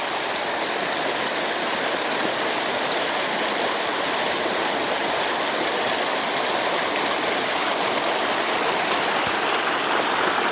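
Steady, dense roar of the Kaeng Pla Kaeo waterfall, loud and continuous with no pauses, filling the whole clip without any voices.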